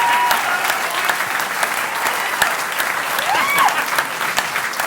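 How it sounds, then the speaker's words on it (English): Audience applauding a comic poem about poultry, a loud, steady wash of clapping from a crowd lasting several seconds, with a faint voice briefly underneath. "Mike Lidley, give him a round of applause"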